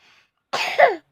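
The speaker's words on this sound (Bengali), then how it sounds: "আগে কেশে নাও" A single close cough bursts out after a brief faint sound, one harsh rasping expulsion lasting about half a second, alone in an otherwise quiet room.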